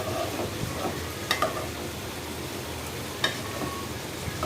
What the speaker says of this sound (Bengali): আলুটা দিয়ে কষাচ্ছি।